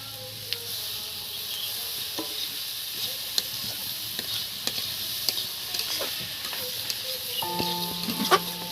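Ginger and green chillies fry in a pan with a continuous crackling sizzle, scattered utensil clicks and scrapes, and a brief tonal clatter toward the end.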